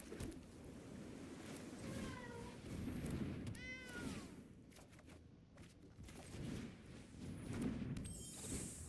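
A person imitating a cat with a couple of short, rising meows over a steady background hiss, voiced by a player during a Standard Magic: The Gathering match.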